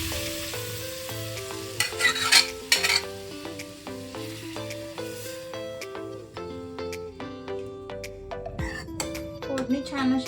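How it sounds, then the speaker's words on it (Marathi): Mashed greens drop into a hot garlic tempering and sizzle loudly while a spoon stirs and scrapes the pan, frying hiss steady throughout with someone talking over it. "आता याच्यावरती आपण आता ही घोटलेली भाजी आहे ना ते टाकून घेऊयात."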